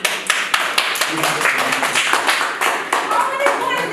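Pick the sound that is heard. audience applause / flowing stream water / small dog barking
audience applause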